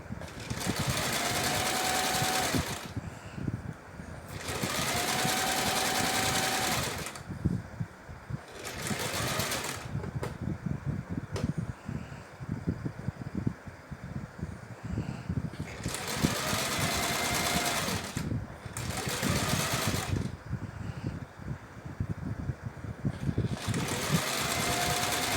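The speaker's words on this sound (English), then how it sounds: "I backstitch again in order to make it stronger, and then sew down the remaining part of the fabric" Sewing machine stitching pillowcase fabric in repeated bursts of rapid, buzzing needle action, each run lasting a few seconds with short pauses and occasional backstitching between them.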